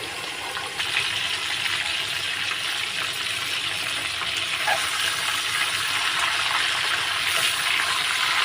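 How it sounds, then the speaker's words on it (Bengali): A whole chicken frying in a pan gives a loud, steady, dense hiss of oil sizzling throughout, close and continuous without pauses, with no voices over it. "উল্টে পাল্টে ভালো করে ভাজতে হবে লাল করে।"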